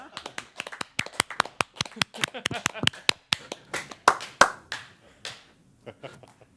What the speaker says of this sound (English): I think we should all clap for him